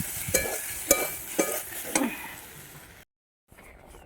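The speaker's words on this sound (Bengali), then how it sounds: "এই দেখুন মশলা দিয়ে এবার আমি সবজিগুলোকে সব কষিয়ে নিচ্ছি" Vegetables are sautéed with spices in a pan for a Bengali morola fish curry with eggplant and radish, with a few sharp spatula scrapes and clinks over a soft sizzle, then a brief cut to silence.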